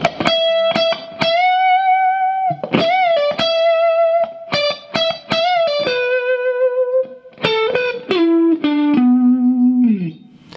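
Electric guitar plays line three of a song's second solo, sustained distorted notes with bends and quick picked attacks, the phrase stepping downward toward a low held note, clear and alone.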